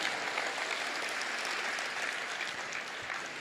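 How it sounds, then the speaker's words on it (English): Sustained applause from a conference audience at a Les Brown motivational talk, steady and fairly distant, with no talking. "Let's give Scott a tremendous round of applause for a great job he just did."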